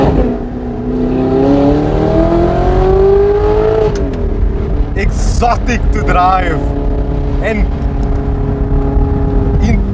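Straight-piped Audi R8 V8 engine revs up loud and close, pitch climbing through the first few seconds before settling into a steady rumble, with a person talking over it and brief bursts of whistling from onlookers.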